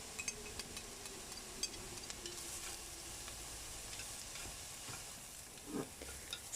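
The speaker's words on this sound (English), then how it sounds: "Add in green onion, stir fry a little bit, then add in carrot." Green onion and carrot stir-fry in vegetable oil in a Dutch oven for hot and sour soup, a continuous close sizzle broken by scraping stir strokes and light clatters.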